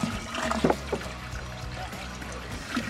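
Distilled water poured from a container into a brewing kettle on a farm gives a steady splashing trickle for about three seconds, with a few louder splashes early on.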